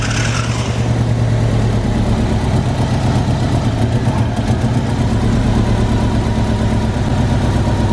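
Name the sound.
Mitsubishi Eclipse GSX engine starting and idling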